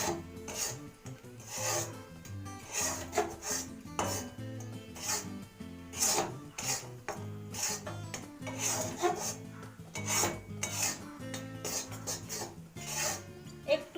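A spoon scrapes and rubs repeatedly against a pan as Lakshmi puja prasad is stirred, making close, rhythmic rasping strokes over faint background music.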